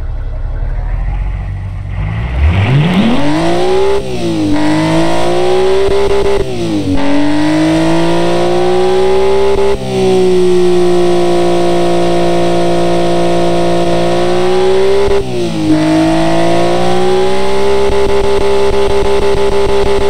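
A car with a straight-through exhaust and carbon fiber intake fires up and idles loudly, then revs repeatedly in rising and falling surges, a raw droning roar close by throughout with no talk.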